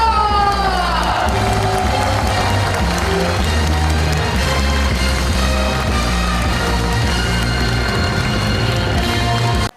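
An audience at a National Assembly member's legislative report meeting in Incheon's Seo-gu district bursts into loud, dense applause and cheering that runs steadily for nearly ten seconds, with sustained tones ringing through the crowd noise.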